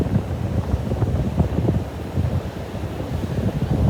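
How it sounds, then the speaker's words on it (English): Heavy ocean waves rolling in fast on the shore of Bolivar Peninsula, a constant loud, low rushing roar mixed with buffeting wind on the microphone, with no voices. "the waves are getting very heavy and coming in very quickly"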